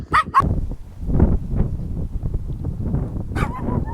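A dog barks sharply twice near the start, then again near the end. Close and loud, over steady outdoor wind noise on a walk across Ireland.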